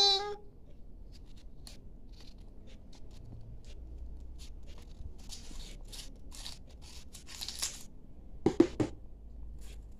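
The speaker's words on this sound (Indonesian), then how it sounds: "Lalu kita gunting." Scissors snip through folded origami paper while a paper flower is being made, a series of short crisp cuts and rustles at close range, with a louder burst of snipping near the end.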